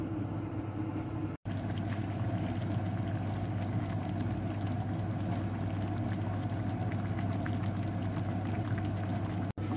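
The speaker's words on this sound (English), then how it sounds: "just let that come up to the boil and let that simmer for about 3 minutes" A pot of potato and leek soup simmers on the stove, giving a constant, dense bubbling hiss with no talking.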